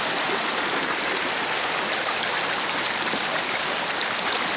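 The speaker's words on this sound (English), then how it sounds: "You can hear the creek a little bit farther ahead." A forest creek flows close by with a dense, continuous rushing hiss and no pauses or voices.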